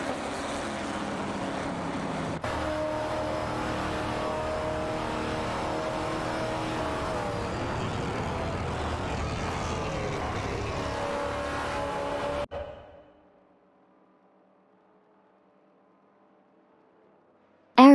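Race cars in a racing video game, including an Aston Martin Vantage and a Maserati Bora, producing a continuous loud engine roar with shifting pitch for about twelve seconds before cutting abruptly to near silence.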